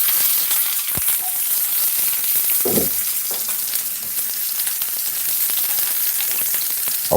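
Onion and carrot frying in a hot pan for yakiniku beef, a loud continuous crackling sizzle close by with a few sharp pops and stirring knocks, no voices.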